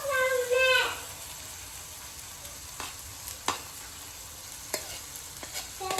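Cooked rice stir-fried with vegetables and spices, a soft low sizzle with intermittent scraping stirs and knocks, close by after a brief burst of another sound at the start.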